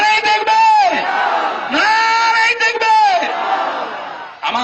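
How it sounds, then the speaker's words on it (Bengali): A large crowd at a Bengali Islamic sermon loudly chanting Subhanallah in unison, repeated voiced swells that rise and fall in a few long bursts, close and filling the space. "জোরে বলুন সুবহানাল্লাহ।"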